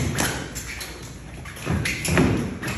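Body punches landing during a light boxing sparring session, a few dull thuds and taps spaced irregularly at close range, with faint background voices underneath.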